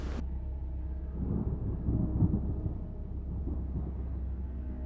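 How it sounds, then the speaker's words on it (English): A low, rumbling roll of distant thunder swells and fades over steady wind noise, muffled and dark in tone. "Then came the storm. Wind howled through the valley like a living creature tearing at their shelters"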